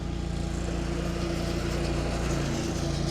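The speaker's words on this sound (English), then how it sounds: "moved on to mowing, apparently" A lawn mower runs steadily while cutting grass in a home garden near a pond, its engine drone holding at an even, fairly close and moderately loud level with no talking.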